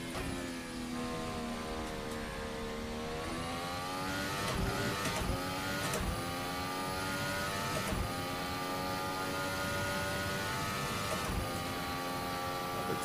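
Formula Hybrid F1 car in the Assetto Corsa racing game, its engine wailing loud and close as it accelerates through climbing gear shifts, each upshift dropping the pitch before it rises again, with no talk.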